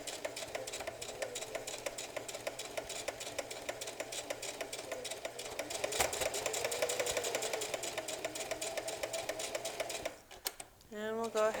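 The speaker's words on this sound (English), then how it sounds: "I've got it all folded down, and I'm going to start sewing." Sewing machine stitching infinity scarf fabric runs in a fast, steady mechanical patter close up, briefly speeding, then stops near the end with a short clatter as it reverses; a voice talks faintly underneath.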